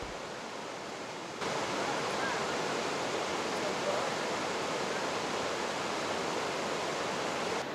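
Steady, loud roar of a waterfall cascade pouring below a bridge over a creek in Glacier National Park, a dense broadband rush that swells slightly after the first second and holds constant throughout.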